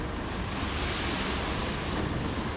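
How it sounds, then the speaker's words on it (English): Sand pours from a machine in the RoadCraft construction video game as a continuous, even rushing hiss, steady and fairly loud throughout with nothing else over it. "most of the sand that I pour ends up going into the base of this thing"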